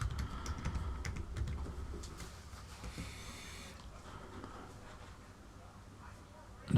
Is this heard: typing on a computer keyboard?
yes